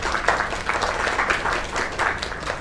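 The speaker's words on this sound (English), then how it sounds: "Another round of applause." Steady applause from a crowd in the video game Lake, a dense wash of clapping that stays even and fairly loud throughout without any voices.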